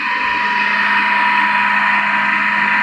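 A DC shunt motor runs steadily at its rated speed, giving a loud, constant whine with a stable hum and broadband whir and no breaks.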